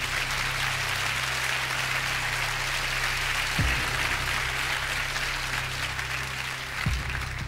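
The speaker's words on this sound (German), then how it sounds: "Danke für den Applaus." An audience at a magic show applauds steadily for several seconds, a dense, even wash of clapping heard from a moderate distance with a couple of low thumps.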